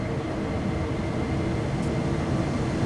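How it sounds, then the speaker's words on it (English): A long BNSF freight train led by four locomotives approaches in Train Sim World 3 on the Hesperia to Barstow route, a loud, steady, broadband rumble and rolling roar that holds constant throughout with no voices. "Alright, here comes the train."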